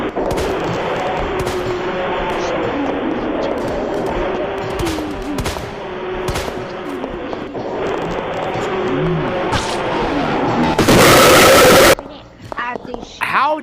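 Gunfire in an online video game, sharp repeated shots and bursts mixed with game noise under frequent excited talking, with one loud harsh blast near the end.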